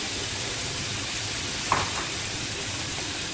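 Finely chopped potatoes frying in two tablespoons of oil in a frying pan, a steady close sizzle with one brief louder pop midway.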